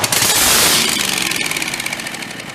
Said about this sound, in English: this one definitely looked like it was firing out of both cylinders